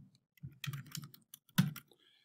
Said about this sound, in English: So I'll type in second test.